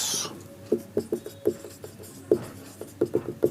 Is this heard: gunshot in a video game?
no